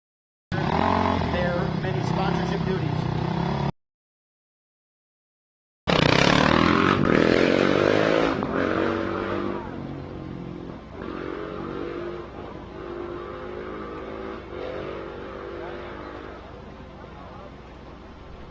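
Off-road race motorcycles pull away from the start line of a desert race in Baja, engines roaring loud and close before a break, then fading as the bikes ride off. An announcer talks over the engines.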